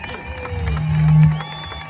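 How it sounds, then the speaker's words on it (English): Crowd applauding and cheering at an outdoor political rally, a broad steady wash of clapping that swells near the middle and then eases, with a low rumbling hum underneath. "give them all a good applause and thank them for doing what they're doing"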